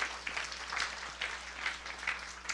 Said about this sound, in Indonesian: Yang setuju berikan tepuk tangan yang beri